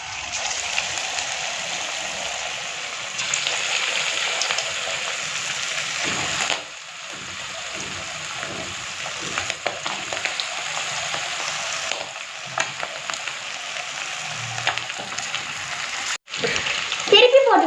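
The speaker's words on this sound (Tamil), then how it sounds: "கலந்து வச்சதை எண்ணெயில் போட்டு பொரிச்சு எடுத்துக்கலாம்." Chicken 65 pieces deep-frying in hot oil in a kadai give a steady, bright bubbling sizzle throughout, with occasional stirring clatter and a brief sharp break near the end.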